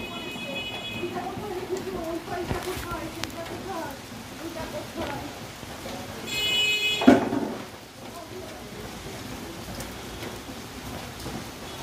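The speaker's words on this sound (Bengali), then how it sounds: "প্রচন্ড বৃষ্টি হচ্ছে।" Heavy rain pours down steadily the day after Cyclone Remal, a dense continuous hiss with a brief louder swell near the middle and no clear speech.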